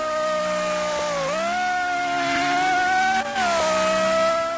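A Porsche Carrera GT engine in the Roblox racing game Midnight Chasers holds a loud, sustained high-pitched wail, rising and dipping slightly with shifts, with no talking over it.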